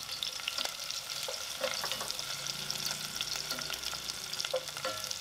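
Steady crackling sizzle of minced shallot and garlic frying in hot oil with lemongrass, occasional stirring clinks, continuous and close throughout.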